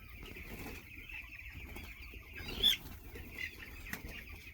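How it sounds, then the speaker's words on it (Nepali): Farmyard chickens and young chicks clucking softly, with a brief louder squawk or wing flutter near the middle against steady background rustle. "चल्लाहरू पनि यत्रो भए।"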